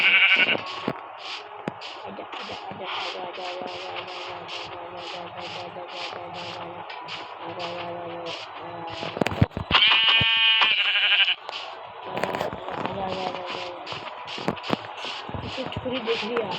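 Goats bleat in Minecraft, giving a long run of rapid, evenly spaced short game bleats that continue through the whole stretch, with a louder, denser burst partway through. Someone speaks at points under and between the calls.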